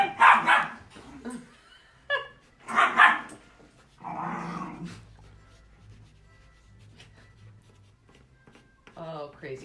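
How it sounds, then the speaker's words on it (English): Several dogs bark and growl in loud, excited bursts, with people talking and laughing around them indoors. "Oh, crazy doggies."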